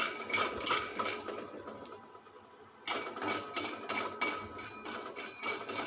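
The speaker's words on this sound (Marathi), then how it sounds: "शेंगदाणे पण आपल्याला खरपूस भाजून घ्यायचे आहेत।" Peanuts dry-roasting in a pan rattle and click in quick bursts as they are tossed, with a brief quieter lull in the middle before the rattling resumes.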